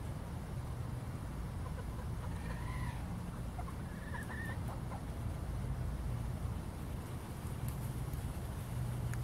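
A hen suffering from peritonitis and internal egg laying gives a few short, fairly soft clucks against a constant background hiss, with faint traffic-like noise around her.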